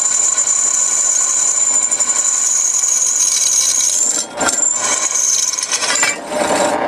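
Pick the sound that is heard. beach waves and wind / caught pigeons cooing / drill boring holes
drill boring holes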